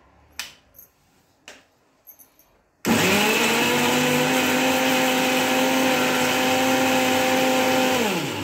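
After a few soft clinks, an electric mixer grinder starts abruptly and runs loud and steady, whirring as it purées onion, ginger, garlic, coriander and mint for chicken biryani.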